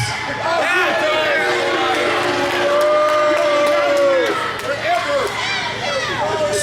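Crowd noise at a wrestling event in Rock Hill, South Carolina, a dense, steady roar of voices, shouts and whoops from a large audience throughout.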